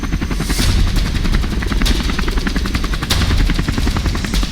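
Indian Light Combat Helicopter at Jodhpur air base, heard as a loud, continuous rotor and turbine roar with steady rapid chopping pulses and a few sharp bursts, no voices.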